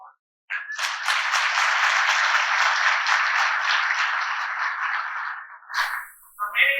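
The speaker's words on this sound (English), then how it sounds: "One more round of applause for our county team, if you don't mind." Applause for the county team at a State of the County address: a sudden burst of dense, steady clapping from the audience that holds for several seconds, then thins and fades, with brief sounds at the end.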